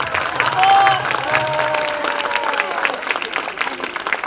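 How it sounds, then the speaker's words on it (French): Applause and crowd noise fill the space, a steady wash of clapping with some voices and a brief whistle-like tone near the start. "on peut les applaudir très fort"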